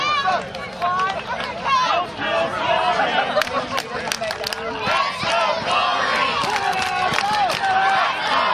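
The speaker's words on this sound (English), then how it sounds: "Crowd coming alive for Jason Gory here in the Ellsworth field" A crowd roars and shouts at an outdoor wrestling show on the Ellsworth field, dense continuous cheering and yelling with scattered sharp cries, loud and close throughout.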